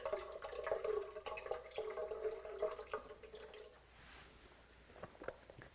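Coconut water pours steadily with a bubbling, rising tone for a few seconds, then stops, leaving faint drips and clinks.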